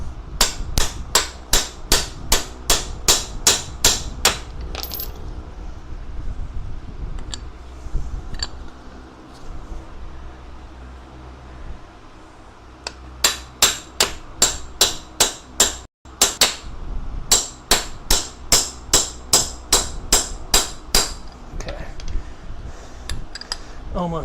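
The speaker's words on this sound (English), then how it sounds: "It's like I feel like a hammer a dentist would use." A cheap ten-dollar small hammer, likened to a dentist's hammer, taps sharply in a garage during work on a Geo Tracker budget lift, coming in quick regular bursts of strikes with a short pause between runs.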